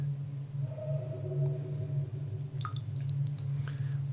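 Muddy water drips in a basement in the horror game Silent Hill: Metamorphose, a few soft drops and wet plinks over a constant low hum, thickening into a cluster of drips near the end.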